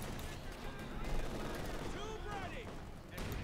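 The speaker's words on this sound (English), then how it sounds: "Center rifle squad getting hit with the rifle and a follow-up mortar hit here." Rifle fire and a mortar impact in Company of Heroes 2, a busy stretch of crackling small-arms shots and booming hits mixed with battle ambience, moderately loud.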